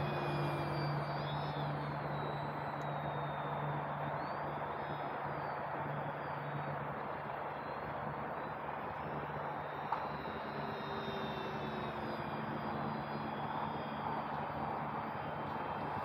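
An E-Flite RV-7 radio-controlled model airplane on a 4S battery drones overhead with a steady electric motor whine that rises and falls slightly in pitch as it flies past, moderately distant and continuous.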